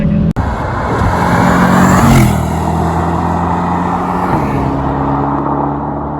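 A 2021 Mercedes E63s AMG Wagon drives along with a steady engine drone and road roar heard from inside the cabin, swelling around a shift at two seconds and settling into a lower hum.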